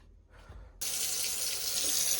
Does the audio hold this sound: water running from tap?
yes